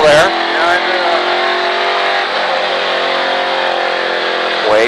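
A race car engine drones loud and steady from inside the cockpit on a driving track, holding an even pitch while an instructor talks over it.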